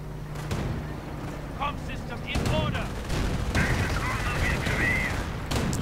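Rocket barrage from Calliope launchers mixed with rattling gunfire in a World War II strategy game battle against German Panzers, a dense continuous wash of explosions and shots with brief whistling tones over it.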